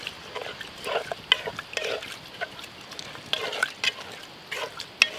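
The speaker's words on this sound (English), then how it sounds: "I'm going to go ahead and give that a good stir" Rice and seasonings, cooked with bacon fat, are stirred in a pot for stuffed pumpkins, giving soft scraping and wet, sticky stirring strokes in short irregular bursts at close range.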